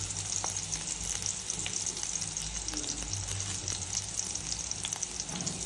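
Chopped onion and green chili frying in hot oil for a mutton curry, giving a steady close sizzle with soft stirring scrapes throughout and no voices.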